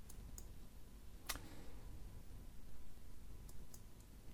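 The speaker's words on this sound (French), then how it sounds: "On va cliquer sur enregistrer." A single sharp computer mouse click sounds close by in a quiet room, followed by a couple of fainter clicks, against a low steady background hum.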